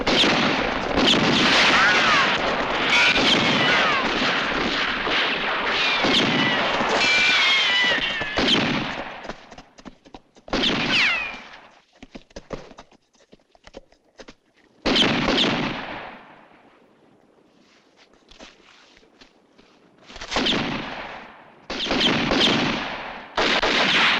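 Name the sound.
gunfire in western movie shootout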